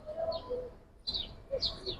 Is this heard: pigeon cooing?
yes